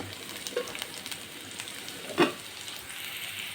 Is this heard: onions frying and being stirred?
yes